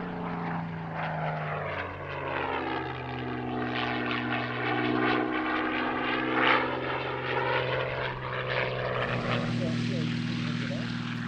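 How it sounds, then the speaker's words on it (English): A Supermarine Spitfire 9 from the RAF Battle of Britain Memorial Flight performs a display at Little Gransden Airshow, its piston engine droning steadily and rising in pitch as it passes, moderately distant, with no speech. "Final parts coming up from the Supermarine Spitfire 9 at the Royal Air Force Battle of Britain"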